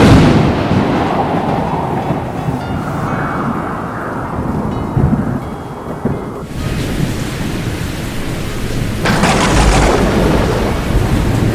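Heavy rain pours steadily, with rolling thunder rumbling through and a louder crack of thunder near the end, no voices over it.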